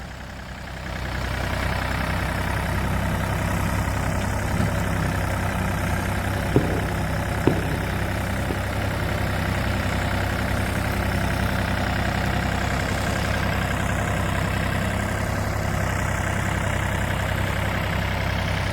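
Tractor hitched to a loaded trolley in a field, engine idling steadily and loudly with a deep continuous rumble, a couple of faint clicks partway through.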